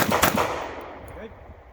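Rifle gunfire on a shooting course, a quick close burst of several sharp shots in rapid succession, with echoes decaying over a second or so.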